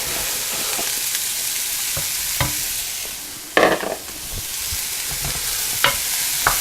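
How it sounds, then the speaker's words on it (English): Cauliflower rice sizzles and fries steadily in a pan for a risotto with garlic, mushroom and asparagus, with a few sharp clinks and scrapes of stirring cutting through the hiss. "We're going to add this rice, this cauliflower rice."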